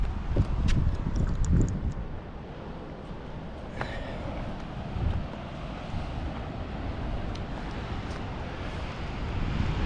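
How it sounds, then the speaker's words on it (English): Wind blowing at an island beach in the Bahamas, a continuous low rumbling buffet against the microphone, gusting stronger at the start and end, with no talk. "Less wind."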